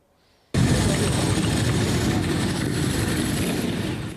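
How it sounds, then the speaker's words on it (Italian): Motorcycles and Vespa scooters roar in together as they arrive at a church square for a funeral in Cusignana, a sudden loud, sustained engine rumble that holds steady after a quiet start. "Il rombo delle moto e delle vespe accompagnano l'arrivo sul sagrato della chiesa di Cusignana"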